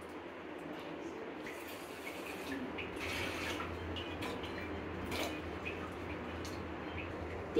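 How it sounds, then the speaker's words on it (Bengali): Four cups of water pour steadily into a pan on the stove to make sugar syrup for spongy rasgulla, a faint, continuous splashing rush with no talking. "তার সাথে 4 কাপ পানি দিয়ে দিচ্ছি"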